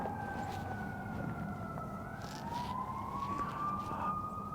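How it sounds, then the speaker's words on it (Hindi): Fire truck sirens wail steadily as emergency vehicles pass by on a street in Canada, the rising and falling tones loud and continuous over low traffic rumble. "जो ये लाउड नॉइज़ है ये फायर ट्रक्स की है।"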